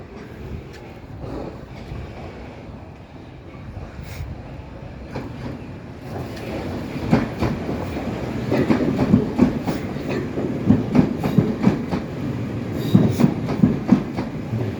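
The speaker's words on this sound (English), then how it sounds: "And here comes another train." A train rolls past up close at a level crossing with the barriers down, wheels clattering in a steady rhythm that grows louder over several seconds, with rumbling carriages and sharp rail clicks.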